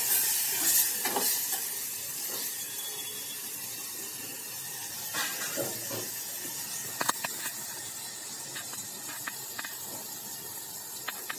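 Green peas, tomatoes and curry leaves sizzle softly in a pan, a faint steady hiss with scattered small crackles and occasional stirring.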